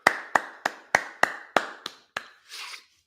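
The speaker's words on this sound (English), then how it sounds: "Let's clap that up." A congregation at a Sabbath service claps hands in a steady rhythm, about eight sharp, evenly spaced claps that trail off into a softer burst at the end, with no talk over them.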